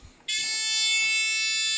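An intruder alarm buzzer, armed with an RF key fob, sounds when the detection beam is broken: a sudden, loud, steady high-pitched electronic tone starts after a moment of near quiet and continues without a break.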